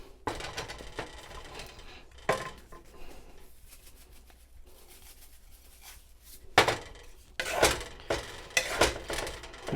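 Sausage and potato with Cajun seasoning are stirred in a non-stick deep frying pan, making quiet scrapes and a few sharper clatters in uneven bursts, loudest toward the end.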